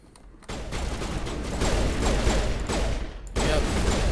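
Sustained video-game gunfire in Mass Effect: a dense, continuous crackling barrage of shots and combat noise, loud and steady throughout, with no talking.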